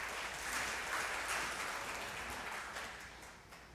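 A church congregation applauds during a Taiwanese-language Sunday worship service, welcoming the pastor: a steady, even wash of many hands clapping that tapers slightly at the end.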